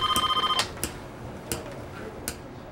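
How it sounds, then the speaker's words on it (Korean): A telephone rings at a police station in a radio drama: a short rapid bell trill, then a few sharp ticks and clicks in a quiet room. "그런데 그때 경찰서로 걸려오는 한 통의 전화."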